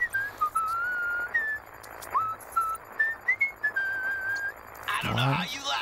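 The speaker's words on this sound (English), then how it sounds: "Whistling a happy tune, apparently." A video game character whistles a cheerful tune in Sunset Overdrive, a thin wavering melody of short phrases with brief pauses, ending as a noisy burst cuts in.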